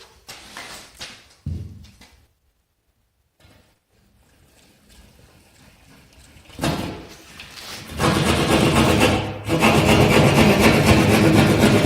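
A small, inexpensive hand saw cuts into a wall during a wall repair, giving loud, steady rasping strokes that build after a few scattered knocks and a quiet pause.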